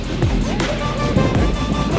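A Suzuki Jimny with the old engine working off-road under steady throttle, giving a loud low drone close by, with a voice talking over it.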